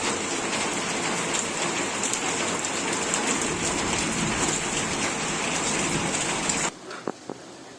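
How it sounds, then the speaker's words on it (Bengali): Heavy monsoon rain pours down in a constant dense roar of drops on surfaces, loud and steady, then cuts off abruptly near the end, leaving a quiet room with a couple of faint knocks. "দেখো কি পরিমাণে ঝমঝম করে বৃষ্টি এসছে"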